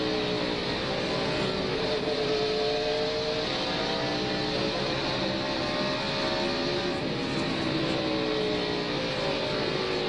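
NASCAR Winston Cup stock cars racing at Bristol Motor Speedway, a short concrete oval: a dense, continuous roar of many engines at full throttle, with pitch shifting as the pack circles, loud and steady, with no commentary.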